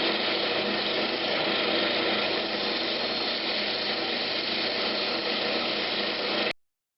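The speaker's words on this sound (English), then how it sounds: "I'm gonna start roughly shaping with my bowl gouge" A bowl gouge roughs out a Brazilian cherry blank on a wood lathe, giving a continuous loud, dense whirring scrape that holds steady for several seconds before cutting off abruptly.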